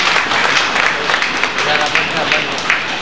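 A seminar audience applauds to welcome a speaker, a steady broadband patter of many hands clapping at once, sustained and fairly loud from start to finish.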